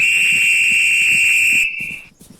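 A steady electronic alarm tone beeps continuously, loud and close, as a training attack or initiate signal, then cuts off abruptly, leaving faint room noise.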